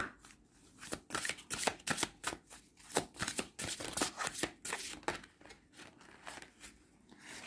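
A deck of cards for a reading is shuffled close by, with soft, quick riffling and flicking bursts in an irregular rhythm, faint and with no talking.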